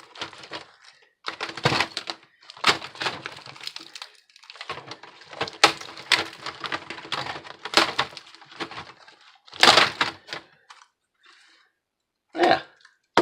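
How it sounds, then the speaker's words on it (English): Someone pries the keyboard off a Dell laptop, producing a run of sharp plastic cracks, snaps and scraping clicks in irregular bursts, some louder than others, with short quiet gaps and no talking. "pull that whole keyboard off"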